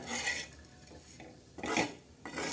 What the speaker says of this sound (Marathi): आता चला मैत्रिणींना आपण मस्त छान असे हलवून घेऊया